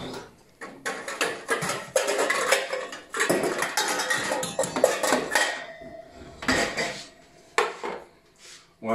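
Metal cookware clanks and scrapes in bursts, pans and utensils knocking together close by with brief pauses.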